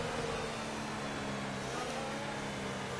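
A Formula 1 car in the F1 2018 video game races past, its engine a dense, steady, high-pitched roar that stays loud and near throughout the short stretch.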